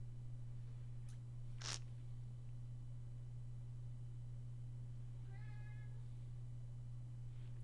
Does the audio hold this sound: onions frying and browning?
no